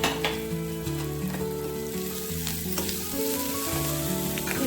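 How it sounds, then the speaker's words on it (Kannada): Green chillies and garlic sizzle and fry steadily in a pan for a spinach curry, with occasional stirring scrapes over a continuous close hiss and no talking. "ಇದ್ರ ಜೊತೆಗೆ ಟೊಮೆಟೊ 1 ಬೌಲ್ನಷ್ಟು ಇಷ್ಟನ್ನು ಹಾಕ್ಕೊಂಡು ಚೆನ್ನಾಗಿ ಫ್ರೈ ಮಾಡ್ಕೊಳ್ಬೇಕು."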